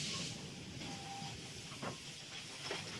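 A train comes to a stop as a visual novel sound effect, with a steady hiss of steam and rail noise and a few faint squeals and clunks as it slows, no voices.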